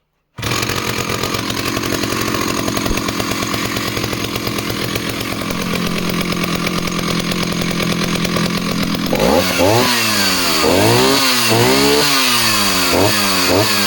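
Vintage Jonsereds Raket chainsaw starts and runs, a loud steady two-stroke drone close by that turns into repeated revving blips toward the end, alone without talk.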